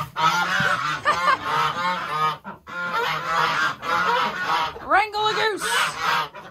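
Geese honk loudly and repeatedly in close, overlapping bursts while waterfowl are being brought indoors, with some chickens nearby. The honks stay dense and noisy throughout, with a brief lull near the middle.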